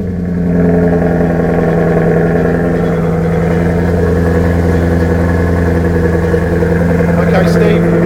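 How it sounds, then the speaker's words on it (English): A car engine running in sport mode with the exhaust baffles open inside a busy showroom: a steady, deep, harmonic idle drone that holds loud and even for about seven seconds, with voices faintly underneath. "You can hear the engine, you can hear the baffles on the exhaust being open."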